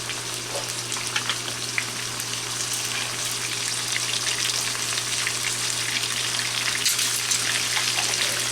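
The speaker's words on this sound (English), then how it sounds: "We're gonna let the shrimp cook here on both sides" Shrimp frying in a pan for shrimp al ajillo, a loud steady sizzle and crackle that runs unbroken and close throughout, with no talking.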